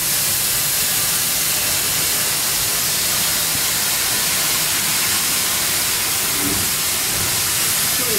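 A steam locomotive at Barrow Hill roundhouse vents steam in a loud, continuous rushing hiss that stays strong and close throughout.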